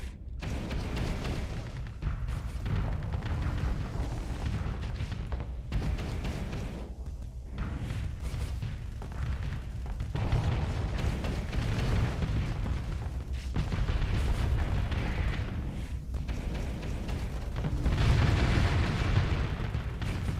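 Missile salvos exploding in the space combat game Starsector, a continuous rumbling barrage of booms and bursts with swelling impacts that rise toward the end.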